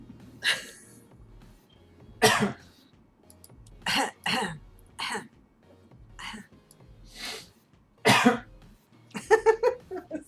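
Repeated coughs and throat clearing come in scattered bursts, close by, ending in a quick run of hacking coughs.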